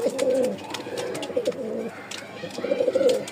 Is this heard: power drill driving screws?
no